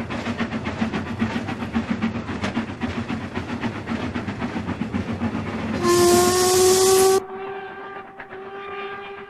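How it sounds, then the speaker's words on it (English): A Stanier 'Black Five' steam locomotive hauls its train across a concrete viaduct with a steady rolling rumble and clatter, then a loud sustained whistle blast before the rolling sound continues more quietly. "There's a train going over at the moment,"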